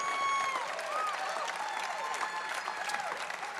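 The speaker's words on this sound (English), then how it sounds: "Let's give them another round of applause, please." A large audience gives a warm round of applause for young performers at a youth awards program, with continuous clapping and scattered whistle-like tones rising and falling above it.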